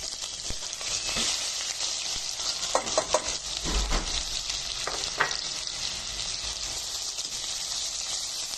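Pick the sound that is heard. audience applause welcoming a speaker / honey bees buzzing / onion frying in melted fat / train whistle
onion frying in melted fat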